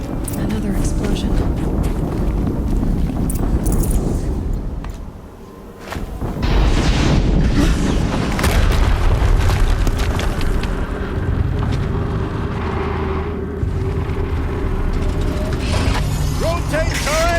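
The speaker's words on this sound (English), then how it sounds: "Another explosion." Explosions in the Horizon Zero Dawn video game, heavy booming blasts over a dense mechanical battle din with a brief lull in the middle, and a voice speaking.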